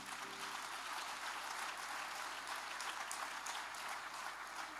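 Church congregation applauding together, a dense, even patter of many hands clapping that holds steady for several seconds, fairly faint and distant with no voices standing out.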